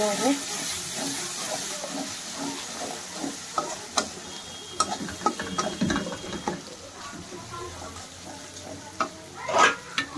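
Spices with Kashmiri red chili powder and methi leaves are stirred and fried in a pan, with a spatula scraping and clacking in irregular strokes over a soft sizzle, close by.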